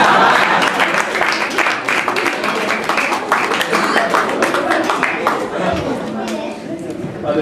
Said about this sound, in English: Ladies and gentlemen, another round of applause for Dynamo